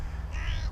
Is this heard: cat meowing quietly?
no